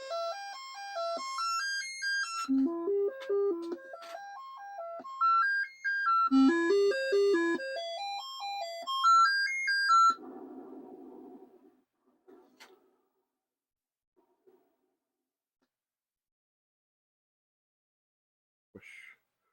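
A Commodore 64 SID chip sound test on a diagnostic cartridge: bright chiptune square-wave melody plays alone in quick stepped arpeggios for about ten seconds, then gives way to a short noisy burst and near silence.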